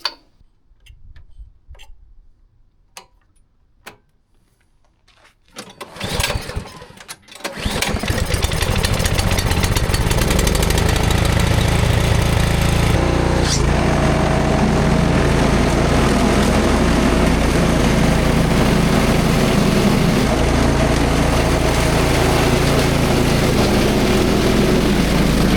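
A Briggs and Stratton engine on a single-stage snowblower starts after a few faint clicks, then runs loud and steady at a fast, even rattle, close by with no one talking.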